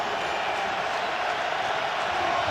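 Dense, steady roar of a large crowd inside an NFL football stadium during a Panthers–Bills game, a continuous broad wash of noise with no distinct breaks.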